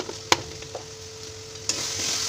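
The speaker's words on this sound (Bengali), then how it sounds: "একটু নেড়ে নিয়ে তারপর নুনটা দেবো।" Chicken with green chili, Kashmiri chili powder and meat masala is stirred in a pan, a low sizzle with a sharp utensil clank early on and another scrape before the frying swells.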